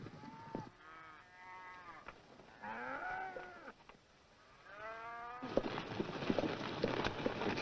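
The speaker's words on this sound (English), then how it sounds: "The cattle will be needing water pretty soon." Several cattle moo in turn, long drawn-out lowing calls from a herd, followed by a rougher stretch of overlapping animal sounds and faint ambient noise.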